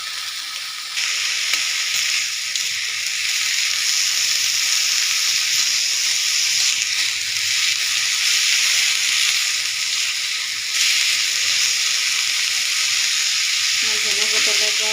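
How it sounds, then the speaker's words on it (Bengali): Coriander leaves fry in oil in a pan, producing a loud, continuous close-up sizzle and hiss that holds steady throughout with only slight swells. "ধনেপাতাটা প্রায় ভেজে না হয়ে গেছে, আমার একটু ভেজে নেব"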